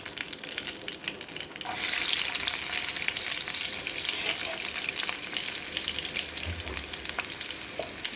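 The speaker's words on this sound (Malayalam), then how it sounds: "അപ്പോൾ കടുക് താളിക്കാം എണ്ണ ചൂടായി വന്നിട്ടുണ്ട്" Mustard seeds and shallots sizzle loudly in hot oil for a South Indian tempering, the crackle jumping in volume about two seconds in and staying steady, with no talk over it.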